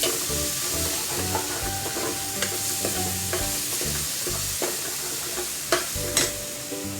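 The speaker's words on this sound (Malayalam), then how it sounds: "അതൊന്ന് ഇളക്കി കൊടുത്തതാണ്." Food frying in a pan is stirred for a home-cooked lunch: a steady close sizzle runs throughout, broken by repeated scraping and clacking strokes of the stirring utensil, with no talk.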